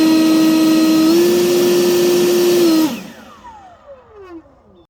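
A Litheli 2x20V brushless leaf blower runs at full speed with a loud, steady whine and airflow roar for about three seconds, then shuts off and spins down in a falling whir.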